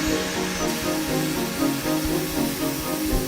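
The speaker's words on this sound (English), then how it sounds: "The drill bit follows a pre-programmed route, shaping the car with utmost precision." Steady whirring drone of a 5-axis machine drilling and shaping a full-size clay model of a 2018 Range Rover Velar, continuous and fairly loud with a faint fluttering rhythm, no voices.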